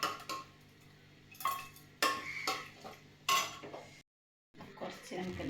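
Curry being stirred in a cooking pot, with a spoon clanking and scraping against the metal in several separate knocks and a brief silent gap, close and clear.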